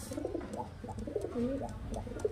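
High-flying pigeons of a fancy breed coo softly and repeatedly at close range, a low, rolling warble over light background noise.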